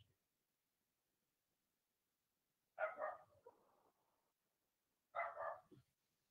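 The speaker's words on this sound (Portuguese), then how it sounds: "Só fica os cachorrinhos latindo." Small dogs bark in two short, faint bursts, somewhat distant, separated by quiet.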